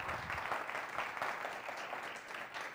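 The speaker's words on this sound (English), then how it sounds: "You're not supposed to clap before I've said anything." An audience at a lecture on groundwater breakthroughs claps steadily for a few seconds, a dense, even patter of many hands heard from within the hall without voices.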